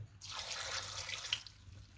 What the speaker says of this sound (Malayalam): ഞാൻ ഇതിനകത്തേക്ക് 1 ഗ്ലാസ് വെള്ളം കൂടി ആഡ് ചെയ്യുന്നുണ്ട്, അടിയിൽ പിടിക്കാതിരിക്കാൻ.